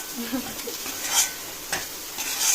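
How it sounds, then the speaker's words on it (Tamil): Brinjal sautéing in oil with masala for ennai kathirikkai kuzhambu, a close, crackling sizzle with a couple of brief utensil scrapes and stirs, no voices. "இப்போது கத்திரிக்காவும் இந்த எண்ணெயில் சேர்ந்து வதங்கட்டும்"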